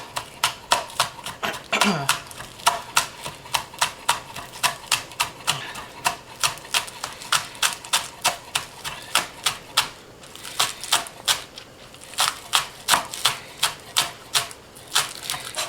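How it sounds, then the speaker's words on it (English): Rapid, crisp knife strokes thinly slice scallion whites on a cutting board, a steady run of sharp close-up taps with brief pauses and a voice talking underneath. "We're going to slice these as thin as possible."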